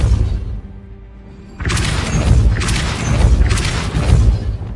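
Depulso spell effect in Hogwarts Legacy: after a quiet lead-in, a sudden loud whooshing boom bursts in, followed by two more surging blasts in quick succession, close and forceful.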